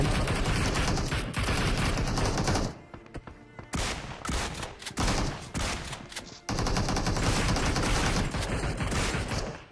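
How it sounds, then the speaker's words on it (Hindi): Dense automatic gunfire and repeated shots from a PUBG firefight, loud and continuous with brief gaps of scattered single shots and thuds mid-clip before heavy firing resumes. "चारों तरफ ना फायरिंग बहुत आ रही थी"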